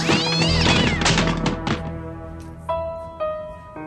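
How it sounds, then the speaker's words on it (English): Cats meow outside in a spooky Halloween-themed setting, a rising, wailing meow with a low thump, followed by sharper separate meows sounding closer and distinct. "I think it's just cats playing outside."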